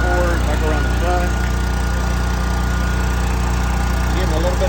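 An NPS 5500 inverter generator runs steadily nearby, with a loud constant drone of exhaust and cooling fan noise and a voice talking over it.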